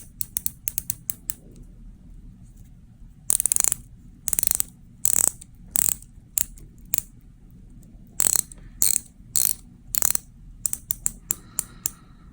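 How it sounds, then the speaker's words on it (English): Bezel of an Aquacy 1769 stainless steel dive watch being turned, giving crisp close ratcheting clicks in quick bursts and single ticks, some rapid runs, with quiet pauses between. "Let's hear the bezel clicks"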